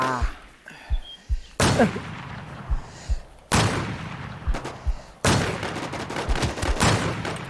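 Gunfire shooting at a wall in The Infestz, three loud sustained bursts of rapid shots separated by quieter gaps with scattered single reports, close and harsh.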